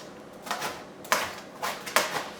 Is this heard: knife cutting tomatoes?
yes